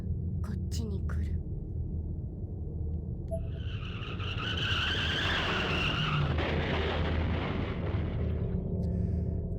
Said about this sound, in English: Another car accident, again right outside my door.